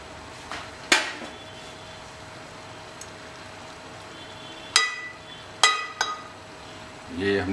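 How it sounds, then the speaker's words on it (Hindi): A lid set onto a pot of chicken biryani: a few sharp metallic clanks and clinks spaced seconds apart, fairly close, over a quiet kitchen background. "ये हमने पूरा ढक दिया है इसे,"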